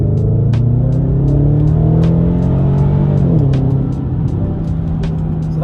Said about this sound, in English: So that was a pull, no slip whatsoever on second gear.